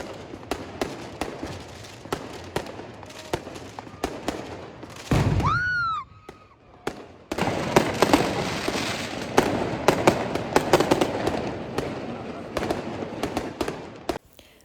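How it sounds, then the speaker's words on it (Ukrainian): Fireworks crackle and pop in rapid bursts, with a whistling rocket rising midway followed by dense, loud crackling explosions. "почула звуки вибухів, це був фейерверк"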